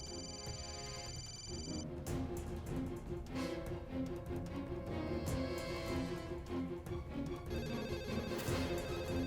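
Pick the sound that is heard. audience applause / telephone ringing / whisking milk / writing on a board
telephone ringing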